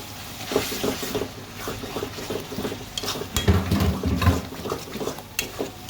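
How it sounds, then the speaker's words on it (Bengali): Onion and green chili spice paste with coriander leaves is stirred in a pan, with irregular scraping and clinking of a utensil against the pot over a soft sizzle, moderately close with no talk. "সেজন্য আমি এটাকে একটু ভালোভাবে কষিয়ে নেব, আর কিছু শুকিয়ে নেব"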